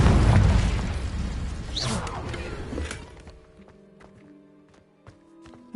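The Confringo explosive spell in Hogwarts Legacy, a loud burst and rumbling boom that fades over a few seconds, followed by quiet footsteps and faint game ambience.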